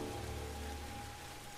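Rain from a scene of the TV show The Pacific makes a steady hiss that stays fairly even for the whole brief moment, with a faint low tonal hum underneath and no voices.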